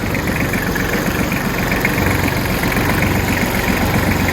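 An Iseki SialHunter 20 Japanese tractor's engine idles steadily at close range, a continuous loud, even mechanical rumble with a faint rhythmic knock and no break.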